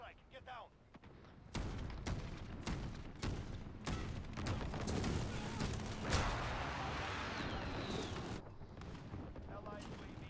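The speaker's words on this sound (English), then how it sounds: "Enemy precision airstrike." Precision airstrike in a multiplayer first-person shooter video game: a rapid string of loud, close explosive blasts and bursts over several seconds, rumbling and crackling together, with a voice speaking at the start.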